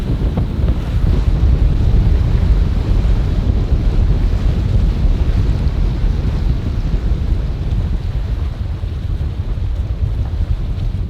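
Strong wind roars across the microphone aboard a sailboat at sea near remote Japanese islands, a loud, continuous buffeting rush blended with the wash of waves, with no voices.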